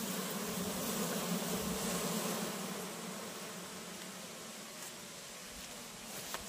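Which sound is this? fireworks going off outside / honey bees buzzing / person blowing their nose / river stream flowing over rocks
honey bees buzzing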